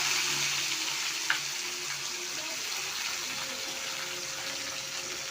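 Spices temper in hot oil for a vegetable kurma, producing a steady crackling sizzle with light spluttering and one brief sharp pop, up close.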